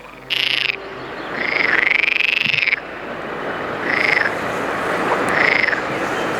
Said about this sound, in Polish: To charakterystyczny odgłos żab.